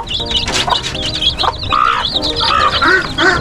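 A mother hen with her eight chicks on a layer poultry farm: a dense, continuous chorus of high chirping chicks and clucking, close and loud, with no talk.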